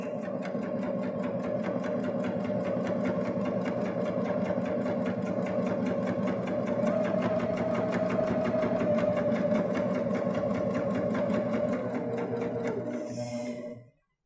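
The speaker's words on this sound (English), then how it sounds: "So we're just going to continue stitching to the end." A Baby Lock Jaz sewing machine stitching fabric through a double fold bias binder attachment runs with a steady, fast mechanical whir and rapid needle chatter for a long unbroken stretch, then stops.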